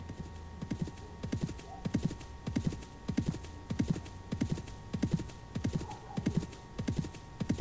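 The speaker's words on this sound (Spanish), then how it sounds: "Ya, el sonido de un caballo," Steady horse hooves clip-clop in an even four-beat rhythm, close and clear, with no talking over them.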